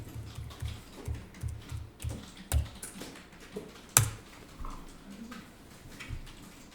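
Quick, irregular clicks of fingers typing numbers on a computer keyboard, with short bursts and pauses and one sharper key strike near the middle, close and fairly quiet against a faint room background, no talking.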